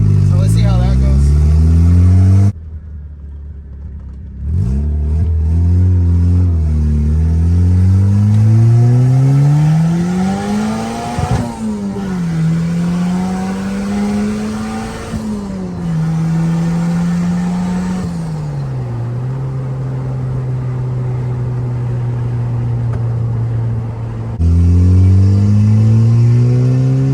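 A turbocharged Nissan SE-R Sentra pulls hard through the gears, engine pitch climbing steadily with brief dips at shifts, turbo whoosh and flutter between pulls, loud and close from inside the car.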